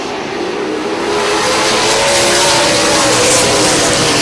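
Late model race cars circle an oval track, a dense roaring wash of engines that builds in loudness and stays sustained, with a faint tonal engine whine running through it.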